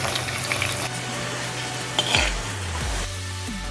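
Sliced small shallots and garlic sizzling in a pan of oil while cooking a Kerala-style spicy fish curry, a close steady crackle with scraping stirring strokes near the end. No one speaks.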